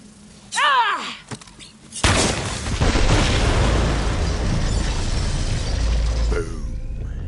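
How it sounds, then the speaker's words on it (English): Bombs set in the video game Borderlands 3 go off in a loud, close explosion, a sudden boom that turns into a long rumbling roar lasting several seconds, after a brief whooshing sweep. "The explosion echoed through the forest"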